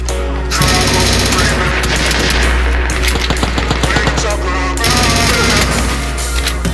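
Rapid automatic gunfire in the battle royale game PUBG rattles on in loud, dense bursts, with a brief lull in the middle before another sustained volley, and voices talking over it.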